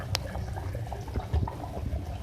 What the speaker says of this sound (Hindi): पानी में उबाल आ जाए तो हम इसमें जो है आलू ऐड करेंगे।